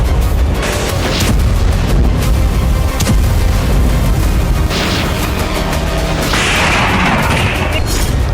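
Explosions from drone strikes in war footage from the Russia–Ukraine conflict, a dense, loud barrage of booms and crashing blasts that fills the whole stretch with rumbling noise.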